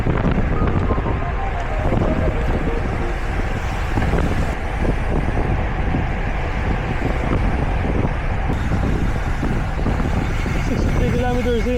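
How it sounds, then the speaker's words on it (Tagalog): Strong wind buffets the microphone steadily throughout, a loud low roar during a 112 km cycling race in Dubai, with a voice speaking briefly under it. "Grabe hangin."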